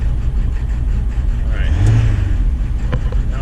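A 7.3 Powerstroke diesel truck engine idles roughly close by with a low, uneven rumble, briefly surging as it revs before settling back.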